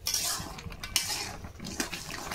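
A utensil stirs food in a cooking pot, giving soft, irregular scraping and clinking, faint and close, with no talking.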